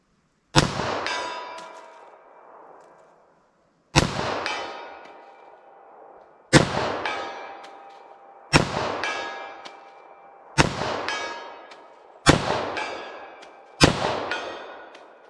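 Seven loud .45 ACP pistol shots firing FMJ rounds, spaced irregularly about one to two seconds apart, each a sharp near crack followed by a ringing decay, with no talking.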